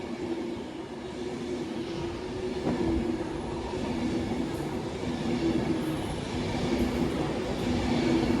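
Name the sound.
Class 390 Pendolino train 390050 passing Cheadle Hulme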